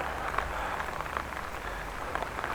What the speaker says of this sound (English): Feels like it's going to be raining a little bit harder than it did before.